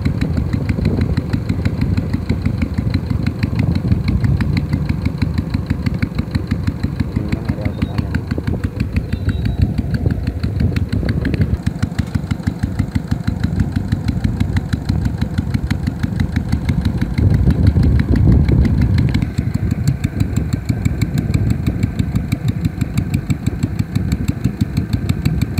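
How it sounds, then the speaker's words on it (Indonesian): A Yanmar TS105 diesel engine drives a Niagara irrigation water pump beside a river, running loud and close with a steady, throbbing chug that holds through the whole stretch with only slight shifts in tone. "Ini menggunakan mesin Yanmar"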